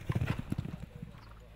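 Racehorses canter up a polytrack gallop at a training yard, a close, quick rhythmic patter of hoofbeats that fades out after about a second, with a voice speaking over it.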